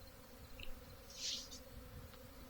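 Honeybees hum faintly at the front board of a hive in June, a soft steady drone with one bee buzzing louder as it passes close midway.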